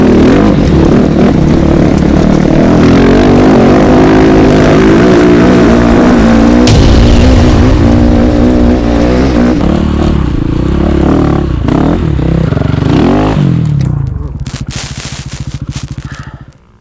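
Inside a Dakar 2019 rally car, the engine and turbo whine under loud, rattling cabin noise and rough mechanical clatter over rough ground, steady and close before fading toward the end.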